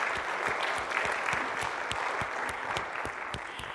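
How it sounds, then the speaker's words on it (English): An audience in a church hall claps steadily for a children's Christmas pageant, a dense even patter of many hands that holds for the whole stretch with no talk over it. "Let's give them another round of applause."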